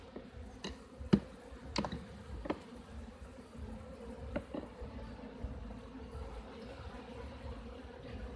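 Honey bees and drones buzzing at an apiary hive near Auckland, New Zealand, with a faint continuous hum and a few sharp ticks and knocks from the hive.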